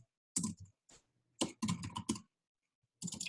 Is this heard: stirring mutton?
no